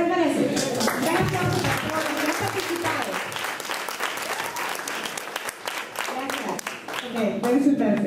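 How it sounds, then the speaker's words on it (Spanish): Church audience applauding during a youth talent night, dense clapping sustained throughout with crowd noise and some voices mixed in. "Vamos a dar un aplauso a aquel que lo merece"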